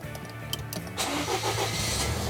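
A Volvo XC90 cranks briefly and starts at close range, settling into a steady idle after about a second with no talk.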